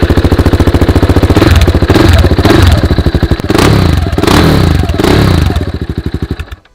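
An old, hard-ridden motorbike engine runs up close and loud, with a rapid, throbbing, uneven pulse and clattering mechanical noise, surging in a few rev swells before easing off at the end.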